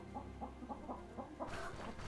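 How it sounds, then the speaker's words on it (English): Chickens cluck from a coop in the video game Stoneshard, a series of short rhythmic clucks at moderate distance over a steady ambient hum, followed by a brief burst of rustling noise, with no talk. "Why are there chicken noises coming from this?"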